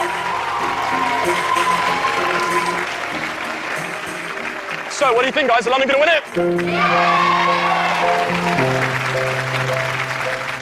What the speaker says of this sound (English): Let's give them all a massive, massive round of applause.